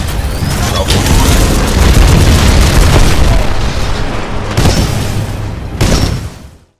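Titan Salvo Core missile barrage in the video game Titanfall 2: a loud, continuous roar of rapid explosions lasting several seconds, with a few sharper blasts near the end before it cuts off.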